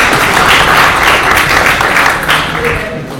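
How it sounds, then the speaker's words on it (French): Conference audience applauding throughout, a dense steady wash of many hands clapping that stays loud and close before easing slightly near the end. "On applaudit encore, non?"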